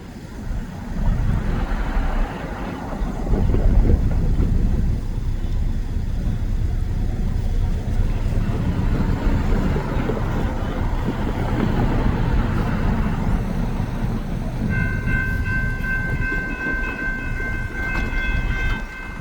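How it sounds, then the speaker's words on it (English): A BNSF freight train passes the Hinsdale station, a loud continuous rumble and rattle of rolling railcars close by, with a tonal horn-like sound rising near the end. "let's get into this BNSF freight train."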